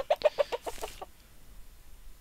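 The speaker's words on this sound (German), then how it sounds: "Welches Huhn lacht hier?" A chicken in the video game Minetest clucks in a quick run of about eight short, bright, evenly spaced clucks over one second, fairly close and alone, then fading into quiet.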